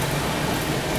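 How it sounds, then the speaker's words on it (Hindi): Heavy, continuous rain falls in Mumbai near Mira Road during a train journey. It makes a dense, even hiss of drops with no break across the short moment and no voices. "बारिश मज़ेदार हो रही है मुंबई में लगातार"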